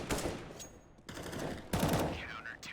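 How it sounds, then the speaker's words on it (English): Bursts of AK rifle fire in CS:GO, sharp rapid gunshots in a few short volleys, moderately loud, with a bit of game ambience between them. "the AK has that long range potential, but unfortunately that's not the one that gets the final kill"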